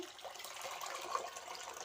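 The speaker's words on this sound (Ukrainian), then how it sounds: "Зливаємо з помідорок водичку." Water is poured off jarred tomatoes, a soft, faint, steady trickle and splash of liquid draining from a jar, close by and alone without speech.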